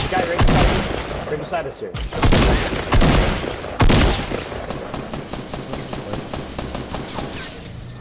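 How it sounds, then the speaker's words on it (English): Sniper rifle shots and other gunfire crack out in a Fortnite squads match, several loud sharp bursts around the start and middle over a dense busy game soundscape, with players talking over the action. "Wait, there's sniper shots northeast too, Dylan."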